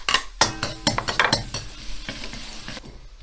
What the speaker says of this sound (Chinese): 放入姜末和蒜末